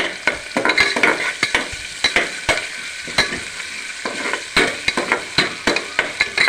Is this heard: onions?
yes